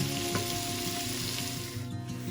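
Chopped onion with a pinch of salt sweats in a hot pan for a dal chicken curry, giving off a steady, soft sizzle that holds evenly throughout. The sound is fairly quiet and there is no talking.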